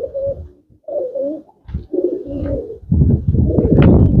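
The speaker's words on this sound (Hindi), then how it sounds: "तो ये हैं मोना भाई की लॉफ्ट के ललसरे कबूतर।" Lalsara pigeons coo repeatedly inside a loft, a close, loud run of low throaty calls with short gaps between phrases, ending in a denser stretch with a faint higher chirp.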